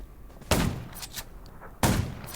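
Gunfire in the zombie survival video game Undawn: two sharp, loud shots about a second and a half apart, each with a short echoing tail, over a quiet ambient background.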